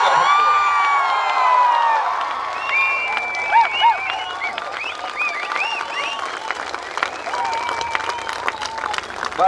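A seminar audience at a Mi Lifestyle marketing event bursts into loud applause and cheering, with piercing whistles and shouts over the clapping that fades somewhat toward the end.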